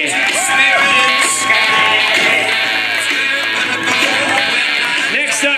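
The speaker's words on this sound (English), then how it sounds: "A big round of applause, everybody." Wedding guests cheer, whoop and shout for the bridal party's grand entrance in Santa Barbara, a loud continuous crowd roar with scattered yells and some talk mixed in, probably over applause.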